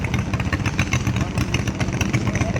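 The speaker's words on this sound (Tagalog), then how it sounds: "Huwag mamatay ang makina." A racing boat's engine runs hard and loud throughout a traditional bangka race, a dense, continuous buzzing drone with rapid rough pulsing and no pauses.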